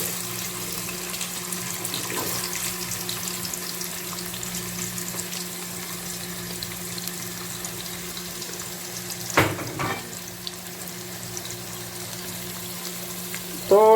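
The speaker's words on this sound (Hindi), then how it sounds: "जब तेल थोड़ा गर्म हो जाए उसके बाद प्याज डाल देंगे" Onions sizzle in about a cup of hot cooking oil for chicken and potato curry, giving a steady close frying hiss with a few sharper clatters from utensils.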